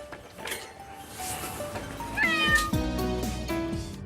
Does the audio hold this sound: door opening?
no